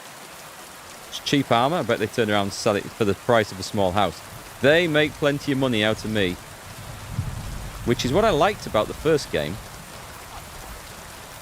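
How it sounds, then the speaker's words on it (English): Rain in Kingdom Come Deliverance 2 pouring steadily as a continuous hiss and patter, with someone talking over it for most of the stretch. "I'm having a job hearing myself over the noise of the rain here."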